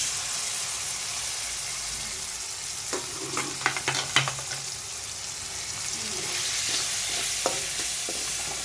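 Prawns fried in a little oil alongside okra in a pan, a steady soft sizzle running throughout with scattered clinks and stirring knocks in the middle and near the end.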